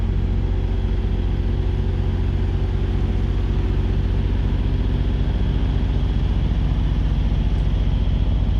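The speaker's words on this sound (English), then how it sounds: "I hear the motor running." A motor vehicle engine runs steadily at a constant idle-like drone throughout, a continuous low rumble with no changes in pitch and no voices.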